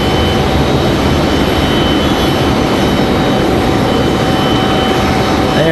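An Embraer E175LR regional jet arriving at Raleigh-Durham International Airport after a flight from Boston gives a steady jet-engine roar with a thin high whine, loud and unbroken for several seconds, with nobody speaking.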